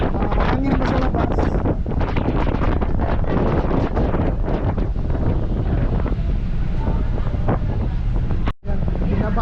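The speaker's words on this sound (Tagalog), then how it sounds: "mahangin pa sa labas." Heavy typhoon wind roars steadily against the microphone outdoors, loud and unbroken, with a brief dropout near the end.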